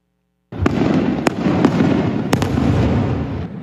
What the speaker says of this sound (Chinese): 有民众入厝了后放8分钟的烟火来庆祝